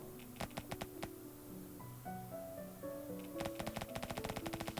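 Rapid gunfire bursts from the mobile survival shooter Deadly Land, crisp machine-gun-like volleys at the start and again at the end with tonal game music between, fairly quiet overall.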